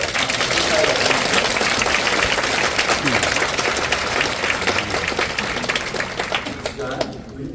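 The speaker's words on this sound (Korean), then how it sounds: "10년 이상 우리 가운데 사역하시고 이제 오늘 은퇴하신 분께 우리가 큰 박수로 한 번 더 감사드립니다." A church congregation applauding at an elder's retirement service, a full, continuous round of clapping that fades out near the end, with some voices mixed in.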